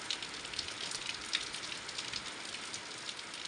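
Rain falling outdoors in a village, a steady close hiss of drops with no break and no other sounds.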